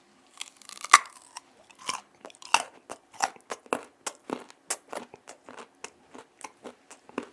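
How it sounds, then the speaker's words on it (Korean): Raw sweet potato, skin still on, is chewed close to the mic in a string of crisp, wet crunches that start sharp and loud and then settle into a steady, quieter rhythm. "생고구마 한번 먹어보겠습니다."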